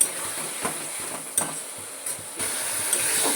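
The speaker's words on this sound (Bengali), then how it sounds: "এদিকে দেখো এটাও ফ্রাই করতে বসিয়ে দিয়েছি।" A chicken roll frying in hot oil, with a soft steady sizzle and hiss, broken by a few light scrapes and clinks of a utensil against the pan.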